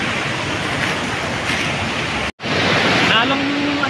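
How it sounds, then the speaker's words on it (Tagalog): Strong floodwater rushes through a low-lying area, a loud, steady roar of churning water that drops out for a moment and then resumes. "Ay, matindi na yung tubig oh."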